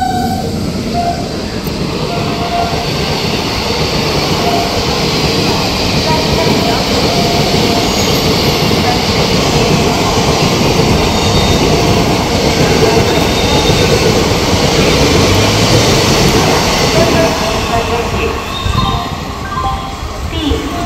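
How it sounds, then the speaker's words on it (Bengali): The Bhagirathi Express, running Sealdah to Lalgola, rumbles past with a steady roar of wheels on rails and a few faint squeals, loud and continuous throughout. "Bhagirathi express Sealdah two Lalgola."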